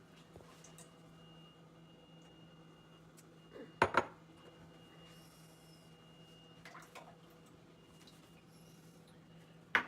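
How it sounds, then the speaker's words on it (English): Olive oil and coconut oil are mixed in a bowl for soap making, with faint kitchen handling noises over a quiet hum and a few sharp clinks of utensil on bowl. "So first I'm gonna take the oils and mix them into a bowl."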